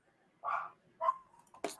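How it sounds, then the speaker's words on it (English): A dog barks a few times at a distance, short separate yelps spaced about half a second apart over quiet background. "So is my dog barking too loud?"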